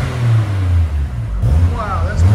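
A Toyota Supra idles with a deep, steady exhaust note close by, then revs briefly in a short rising blip near the end.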